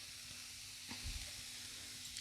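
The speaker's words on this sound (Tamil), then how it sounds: "குறைச்சலாக ஒரு 2 நிமிஷத்துக்காவது நல்லா வதக்கி எடுத்துக்கலாம்" Grated carrots sautéing in a pan for carrot halwa give a steady, soft sizzle with a faint stirring scrape partway through, close by and with no talking.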